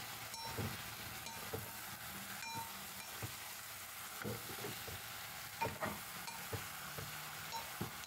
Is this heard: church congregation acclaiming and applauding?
no